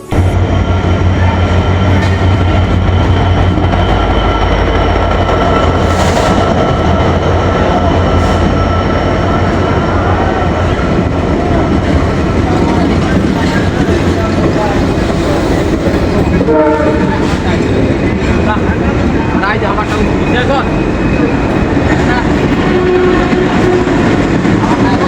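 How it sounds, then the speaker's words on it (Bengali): A train pulls into a station, its wheels and carriages rumbling and clattering loudly and continuously, with a horn sounding early on and brief voices in the background. "আর কিছুক্ষণের মধ্যেই আমার ট্রেনটি চলে আসলো।"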